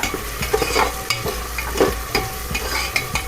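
Green chillies, curry leaves and tomato being stirred and sautéed in a hot pan, a steady close sizzle broken by repeated spatula scrapes and stirs at a quick uneven rhythm, with no talking.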